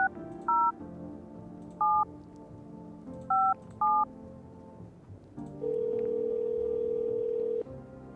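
A phone in the video game No I Am Not A Human sounds four short, separate touch-tone beeps. A steady dial-type tone holds for about two seconds over a quiet background hum.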